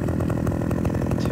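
A chainsaw in Farming Simulator 2015 runs steadily and loudly, a dense continuous buzzing drone that fills the whole moment without pause or talk.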